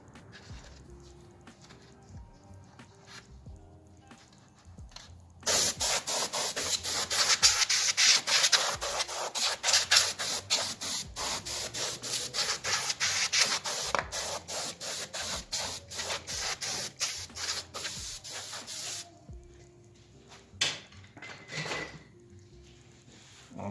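Compressed air blowing out parts on a BMW E46 engine, a loud hissing blast made of rapid pulsing spurts that runs for about fourteen seconds close to the mic, then cuts off to a quieter room.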